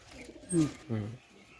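Pakistani teddy pigeons cooing close by: two short, soft throaty coos about a third of a second apart over a faint background hum.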